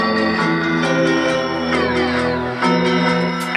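Tape Piano 2 VST preset loaded with heavy effects, a sustained, smeared piano-like tone with dense harmonics and swirling texture, playing continuously and fairly loud with a shift partway through and no voices.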